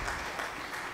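Applause sound effect triggered during an Italian livestream, a brief burst of clapping that fills the whole second at steady, moderate loudness.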